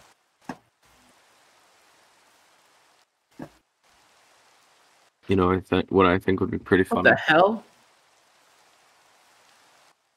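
Steady soft hiss of falling rain in the video game Minecraft, a faint continuous patter running throughout, broken by a few sharp clicks, while someone talks briefly over it.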